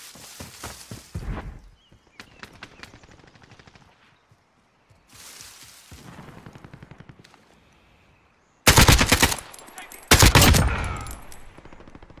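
Gunfire in the video game Warzone: repeated rapid bursts separated by short quiet gaps, with the two loudest and closest volleys coming near the end and no talk.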